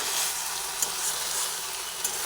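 Steady, loud hissing sizzle of okra dry-frying in a pan, with a couple of soft stirring knocks.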